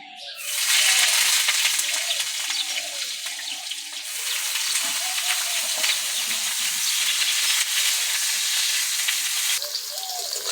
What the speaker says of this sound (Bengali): বেগুন কেটে রেখে দিয়েছিলাম তেলে দিয়ে দিচ্ছি